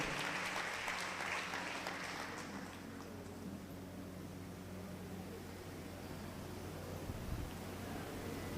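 A church congregation claps loudly during a Telugu sermon, a dense, sustained wash of applause that carries on steadily from start to finish without letting up.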